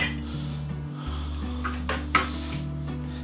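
Lid placed on a pot of chicken and vegetable stew with water, a brief metallic clink and rattle over a steady low hum in a home kitchen.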